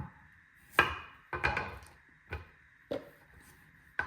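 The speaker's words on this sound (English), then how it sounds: "We will cut the ends off." A knife chops through the ends of a carrot on a wooden cutting board, giving five sharp, separate knocks spaced irregularly and heard up close in an otherwise quiet room.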